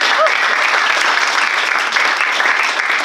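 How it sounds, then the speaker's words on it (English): Steady, full applause from an audience at a creator economy marketing event, a dense unbroken wash of clapping lasting a few seconds with no speech over it. "Big round of applause."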